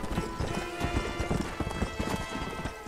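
Horse hooves clip-clop in a steady, quick riding rhythm in the Red Dead Redemption video game, close and continuous, with faint game sounds beneath.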